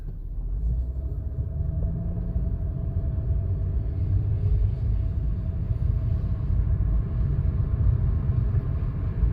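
Inside a Chevrolet Impala fitted with a transmission shift kit, the engine gives a steady low rumble and drone while the car pulls through a gear change, heard continuously without talk.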